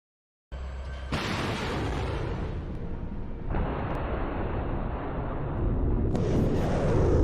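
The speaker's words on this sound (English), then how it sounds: "Oh, he's gonna fire that directly. It's gonna be super loud." A MIM-104 Patriot missile launches with a sudden loud roaring blast that keeps thundering steadily, swelling and shifting several times as the rocket climbs away.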